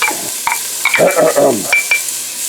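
Onions and garlic sizzling in a pot for vegetable coconut soup, stirred with quick scraping strokes and spoon clinks over a close, loud frying hiss.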